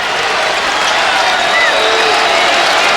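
A basketball arena crowd at a Texas versus Kansas NCAA game cheers loudly and steadily, a dense, continuous roar of voices and clapping.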